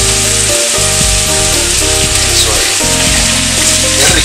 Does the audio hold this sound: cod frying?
yes